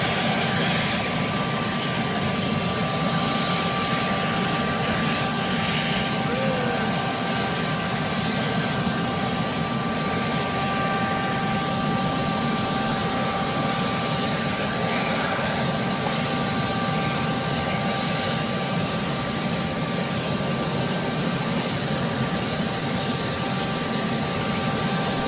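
A helicopter's engine and rotors drone steadily and loudly throughout, a continuous close roar with no speech over it.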